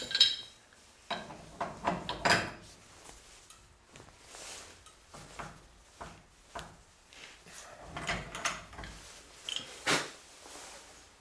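A pipe wrench tightens a leaking NPT pipe thread, giving scattered metallic clinks, knocks and scrapes in irregular bursts, fairly quiet and close.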